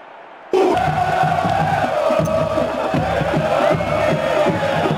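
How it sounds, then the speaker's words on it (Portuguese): A roaring stadium crowd cheers a goal in the football video game PES 2010, steady, loud and dense for about five seconds after a sudden start, with no commentary over it. "Olha a festa da torcida."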